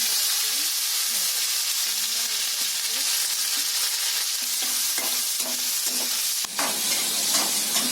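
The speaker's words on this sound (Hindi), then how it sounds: "अभी मैं इसमें थोड़ा जीरा डाल रही हूँ, इसको फ्राई करने के लिए।" Cumin seeds frying in hot oil in a pan give a steady, close sizzling hiss with light stirring scrapes, and faint talk in the background.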